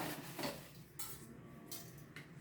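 A spoon works through food in a cooking pot, giving soft scraping and clinking in several short bursts against a steady low background, with no talk.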